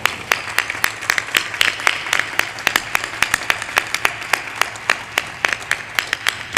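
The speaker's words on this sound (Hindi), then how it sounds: "बजाते रहो, कौन मना किया बंद करना।" Congregation at a Hindi spiritual pravachan clapping steadily, crisp hand claps repeating in a fast, fairly even rhythm for several seconds, close and loud over faint room noise.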